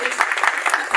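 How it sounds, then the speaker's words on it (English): Audience applause after a workshop talk, dense and steady across the whole second, a loud crowd of hands with no breaks. "I think we should give him a round of applause."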